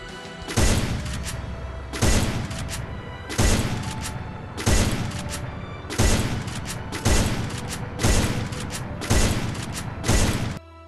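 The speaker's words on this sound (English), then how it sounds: "Continuous shots with the on macro. Button to shoot." Free Fire weapon fire driven by a shooting macro: eight loud, evenly spaced bursts of rapid gunfire, roughly one per second, each punchy at onset and then trailing off, with no talking.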